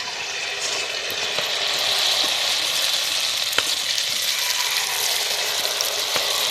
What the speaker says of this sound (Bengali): ভেজে নিই আস্তে আস্তে করে সবগুলো বন্ধুরা